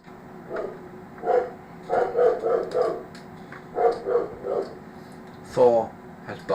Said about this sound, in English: Thor has barking.